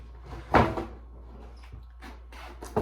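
The top drawer of a kitchen dresser is pulled open with a single quiet knock and a short wooden slide, followed by a few soft scrapes and bumps in a quiet room.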